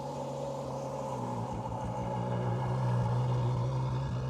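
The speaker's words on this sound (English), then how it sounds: "There goes the GTC Lusso." A Ferrari GTC Lusso drives past at a car week gathering, its engine a steady droning rumble that swells slightly louder toward the end of the pass, with no voices.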